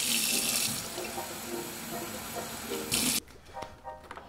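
Water runs from a tap or pours steadily into the water tank of an ElectriQ Tony robot vacuum mop, a continuous hiss that stops abruptly near the end. After it stops, faint handling clatter follows.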